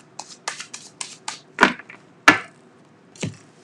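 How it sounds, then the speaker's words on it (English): Tarot cards being shuffled and riffled in quick bursts, followed by a few sharp slaps of cards, close and with no talking. "I'm shuffling, so just tell me."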